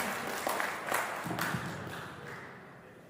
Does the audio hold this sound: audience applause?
yes